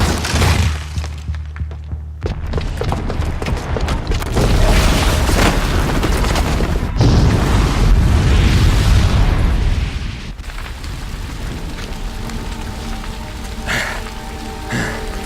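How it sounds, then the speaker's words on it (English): Bomb explosion set off by a booby trap in the video game Horizon Zero Dawn: a loud, sustained rumbling blast with crackling debris and shattering, swelling over several seconds and then fading into a lower roar. "the booby trap on the bomb downstairs is gonna get set off"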